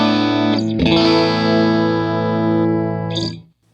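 A clean electric guitar, a Fender Stratocaster played through a Vox AC30 amplifier, rings out a single sustained chord after a short pick attack and fades away after about three seconds.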